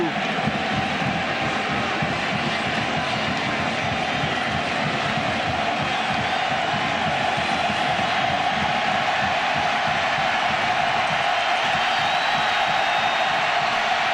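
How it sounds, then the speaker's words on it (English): A deafening stadium crowd at the 2006 Oklahoma at Oregon college football game roars steadily and loudly throughout, with announcer voices partly heard beneath the din. "This crowd is deafening."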